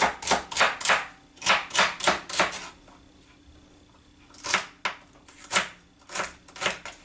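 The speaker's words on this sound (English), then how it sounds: "give it a nice rough chop" A kitchen knife roughly chops salad ingredients on a board: two quick runs of sharp, even chops, a short pause, then another run of steady strokes, close and clear.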